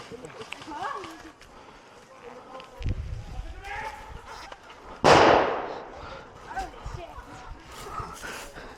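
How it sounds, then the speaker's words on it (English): A single grenade bursts in one sharp, heavy blast about midway, then decays; people talk and call out around it throughout. "You're right, it was a grenade."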